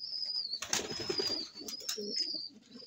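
Soft, low pigeon coos repeat close by, layered over a thin steady high whistle and faint rustling.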